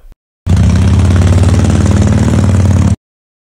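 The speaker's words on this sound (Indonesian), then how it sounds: "Lah, ini motor apa dah? Pakai acara mogok segala lagi." A motorcycle engine runs with a loud, steady, close rumble for about two and a half seconds, then cuts off abruptly into silence as the bike stalls.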